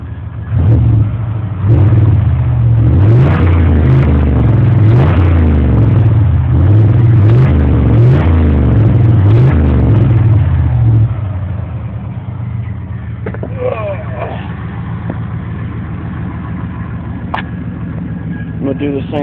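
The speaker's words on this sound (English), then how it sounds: "Rev it up a little bit." A truck engine revved up close and loud, rising and falling in several surges for about eleven seconds, then settling back to a lower idle rumble, with occasional voices mixed in.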